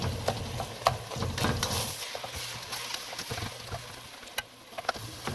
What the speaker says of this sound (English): while this meat finishes off the little pink and gets fully browned